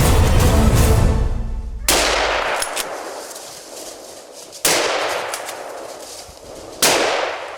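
Gunshots fired at wild boar during a driven hunt in Bulgaria: three sharp, loud cracks spaced a few seconds apart, each followed by a long fading outdoor echo.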